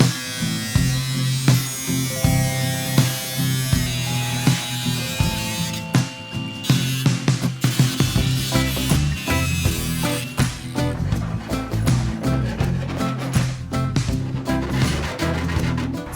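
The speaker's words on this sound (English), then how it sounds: "I'm just gonna completely cut it out with the grinder just to stop any rust forming in the future." Angle grinder cutting rusted metal out of a van floor, a loud close buzzing whine that keeps pulsing and surging as the disc bites, running throughout without speech.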